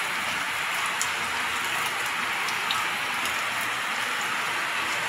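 Steady rain falls close by as a dense, even hiss with scattered sharper drops, continuous and alone, with no voices.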